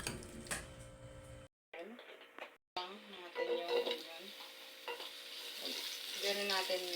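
Beef and onion stir-frying in a pan with sesame oil, giving a continuous sizzle and clattering stirring that break off twice briefly, then build louder toward the end, with no talk.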